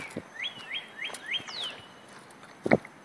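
A small bird gives a quick series of four high rising chirps followed by a sweeping whistle, fairly faint, with a soft thump shortly after.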